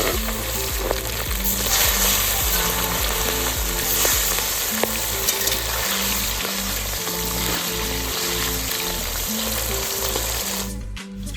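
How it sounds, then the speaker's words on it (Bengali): Pieces of katla fish frying in hot oil, a loud, dense, continuous sizzle and crackle close by, with occasional utensil scrapes, steady throughout before cutting off at the end. "কাতলা মাছ ভেজে নেব,"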